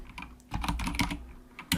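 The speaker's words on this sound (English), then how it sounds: "Sorry about my typing." Fast typing on a computer keyboard during a CAD and Lisp programming lecture: a quick burst of clustered key clicks and a firmer key strike at the end, close and crisp with no talking.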